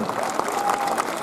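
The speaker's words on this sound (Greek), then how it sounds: "να την υποδεχτείτε με ένα καιρό χειροκρότημα" Crowd applause at a large outdoor rally in Athens, loud sustained clapping from many hands filling the space, with a brief raised voice cutting through the middle.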